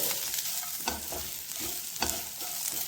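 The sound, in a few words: drumstick leaves frying in tempering oil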